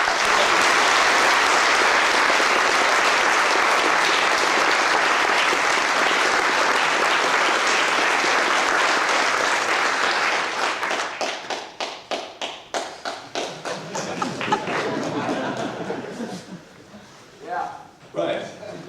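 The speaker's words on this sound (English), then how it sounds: "I think they really deserve a really big applause for their..." Conference audience at a programming languages conference closing session applauding the program committee, a loud sustained roar of clapping that thins out after about ten seconds into scattered individual claps before fading.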